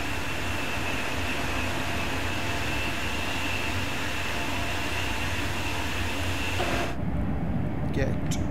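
Another train rushing past on the Köln-Aachen high-speed line in Train Sim World 3, a loud, steady roar that fills the stretch and then cuts off sharply near the end.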